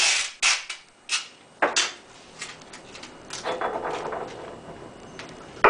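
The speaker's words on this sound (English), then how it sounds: "Then you'll take your packaging tape and rip off 2 large strips and put them to the side for now." Packaging tape ripped off a roll into two large strips, heard as a few sharp tearing rips followed by a longer, rougher peel toward the end, close and fairly loud with no talking.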